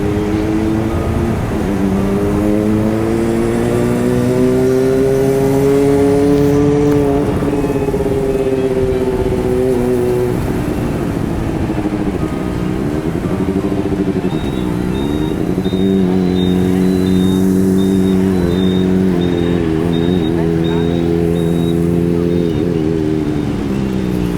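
A motorcycle engine revs up and down continuously while riding at night in Vung Tau, Vietnam, loud and close, its pitch climbing and falling through gear changes.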